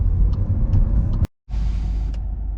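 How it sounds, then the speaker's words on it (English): A 2022 Volkswagen Golf Life accelerates, its engine rumbling steadily from inside the cabin, broken by a brief drop in level during a gear change before the drone resumes, loud and close. "Let's do a quick acceleration, guys, to see how it goes."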